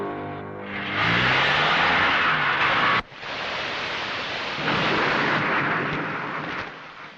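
Heavy rain and thunder from a Telugu film scene make a loud, dense roar that swells, cuts off briefly partway through, then carries on steadily with no voices.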